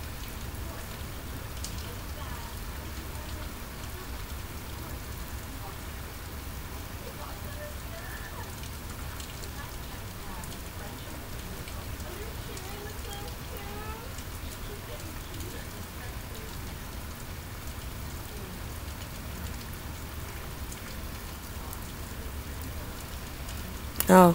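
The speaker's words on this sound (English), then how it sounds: "It's sort of raining. That's what it sounds like." Steady rain falls in a continuous even patter, a dense wash of drops at constant level throughout, with a brief louder knock at the very end.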